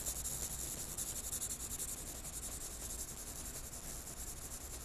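An HB pencil shades on paper in a continuous, soft, close scratching rub that stays steady and fairly faint throughout.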